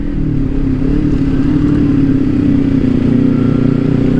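Motorcycles crowd a busy road on the Tenggarong–Samarinda route, heard as a loud, steady engine drone with rumbling traffic throughout and no speech.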